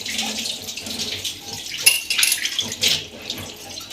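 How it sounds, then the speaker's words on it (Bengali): Tap water running into a sink while dishes are washed by hand, splashing and gurgling continuously at close range with irregular clatters. "দেখো বাসন মাজে নিচ্ছি মেজে নিচ্ছি"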